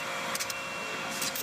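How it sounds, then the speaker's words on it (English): A vacuum cleaner drones steadily in the background of a workshop where hog rings are being fastened, giving a continuous whirring hum with a few brief higher hissing bursts over it. "you can hear the vacuuming going on in the background"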